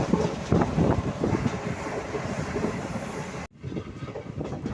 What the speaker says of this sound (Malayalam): അപ്പോൾ നമ്മുടെ വണ്ടി ചേർത്തല റെയിൽവേ സ്റ്റേഷനിൽ ഇങ്ങനെ എത്തിക്കൊണ്ടിരിക്കട്ടെ